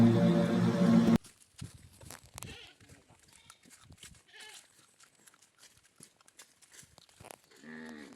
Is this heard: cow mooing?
yes